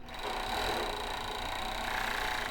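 A sewing machine running a continuous stitch along a lace seam on lace underwear, a steady mechanical whir at close range with no talking.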